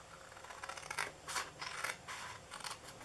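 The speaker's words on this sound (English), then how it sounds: "I like to use my bigger scissors for this because you can go in a couple swoops and it's already cut" Large scissors slicing through paper in a few long swooping cuts, quiet and close, each stroke a soft crisp rasp with brief pauses between, no voices.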